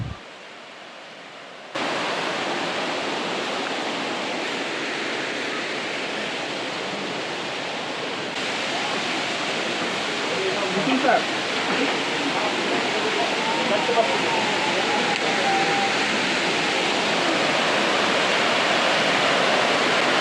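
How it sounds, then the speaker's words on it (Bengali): Elephant Falls waterfall in Meghalaya roaring as a steady, dense wash of falling water, loud and continuous and slightly swelling as the listener approaches. "যখন আমরা উপরে স্পেসে দাঁড়ানো থাকি তখন থেকেই ঝর্ণার কলতান শোনা যায়।"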